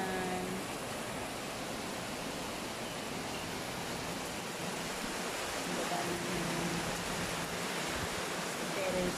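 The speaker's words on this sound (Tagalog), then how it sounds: "lakas pa rin ang ulan." Heavy rain falls steadily at a home with a terrace, a dense, continuous wash of broadband hiss that holds even and loud throughout with no pauses.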